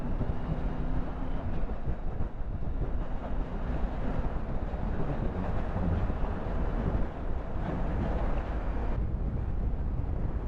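Steady, heavy wind buffeting the microphone on a motorcycle ride along the Rhine in Germany, with a low roaring rumble throughout and no voices.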